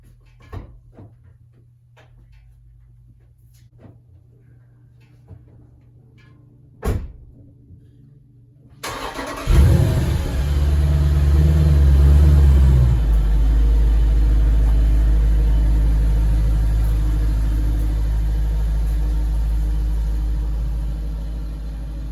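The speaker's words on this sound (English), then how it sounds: "So we're gonna back it out and then pull the truck in." A Jeep engine starts and idles loudly up close, then keeps running steadily as it backs out and a truck pulls in, with a few faint clunks and knocks beforehand.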